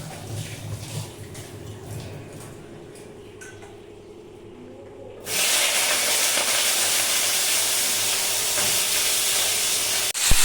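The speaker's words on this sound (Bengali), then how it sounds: "চলো সবজি দিয়ে দিই, কারণ তেল গরম হয়ে গেছে।" Thick-cut potato pieces dropped into hot oil in a kitchen pan burst into a loud, steady, broadband sizzle that continues to the end, after a quieter stretch of low kitchen background.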